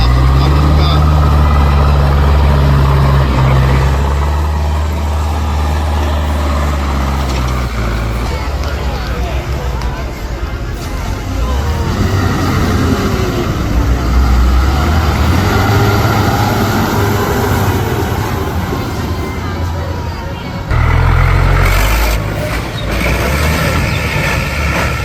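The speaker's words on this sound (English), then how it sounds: "That tractor's plowing through the mud like a champ under the blazing sun," A tractor labors through mud with a heavy, steady engine drone and low rumbling surges, loud and continuous, while voices talk over it at times.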